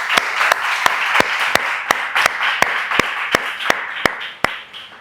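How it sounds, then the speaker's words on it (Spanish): An audience applauds a guest, a rapper, on a talk show. Loud, evenly spaced sharp claps ring out over a softer bed of crowd applause for about five seconds. "Jesús, un fuerte aplauso aquí para él."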